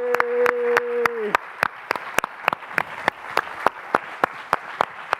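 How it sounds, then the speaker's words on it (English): Audience at a live sports podcast event claps for a guest in a steady, evenly spaced rhythm of sharp claps, starting after a brief sustained tone fades out. "Everybody give a round of applause for our guy, Daniel Sillman"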